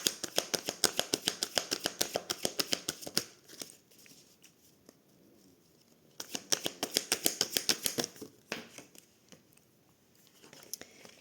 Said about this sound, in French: Allez, je reprends les cartes. Du coup, on va en tirer quelques-unes pour voir.